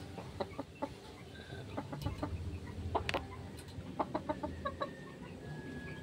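Hen clucking among a Filipino breeder's fighting chickens, scattered short clucks and calls at varying distances over a low farmyard background, with a few sharper sounds in between.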